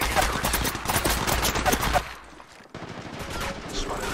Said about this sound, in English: I'm taking shots. Shots fired at me.